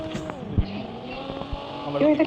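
Vehicle driving in Call of Duty Mobile battle royale: a steady engine drone with a couple of thumps and a rising whine near the end, heard beneath players chatting over voice.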